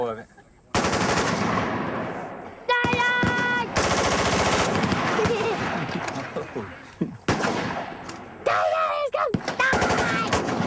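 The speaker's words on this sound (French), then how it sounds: "Tu veux essayer de tirer super vite?" Bursts of rapid gunfire from a firearm shot as fast as possible, loud and close, with sharp repeated reports in clusters separated by brief pauses.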